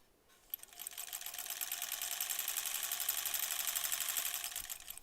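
A sewing machine runs a steady, fast stitching burst to join a seam on a quilt block, starting after a brief pause and holding an even mechanical whir close by, with no talking.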